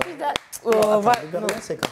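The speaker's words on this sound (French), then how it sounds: "Applaudissez-moi, non ?" Brief applause from a studio audience at a quiz game show, a short burst of clapping mixed with a speaking voice, close and fairly loud.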